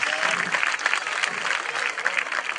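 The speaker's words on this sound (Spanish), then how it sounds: "¡Fuertísimo el aplauso para Natasha y Adrián!" Outdoor street-theatre crowd at a park cabaret applauding performers, continuous dense clapping, fairly loud and close, with faint voices mixed in.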